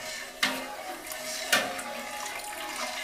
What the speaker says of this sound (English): And next we put in the rennet.